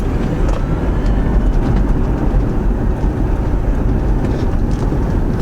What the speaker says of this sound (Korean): 잉 하는 이 전기차 소리 좀 매력 있는 것 같아요